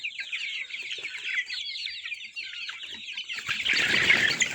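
A flock of roosters raised in a backyard coop clucks steadily and close by, a dense run of overlapping calls, with a rougher burst of rustling or wing movement near the end.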